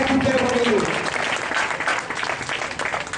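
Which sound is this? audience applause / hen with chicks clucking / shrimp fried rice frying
audience applause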